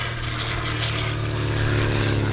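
A 1943 PT-26 propeller trainer airplane coming in at a World War II airshow, its steady engine and propeller drone loud and continuous throughout, slightly swelling as it nears.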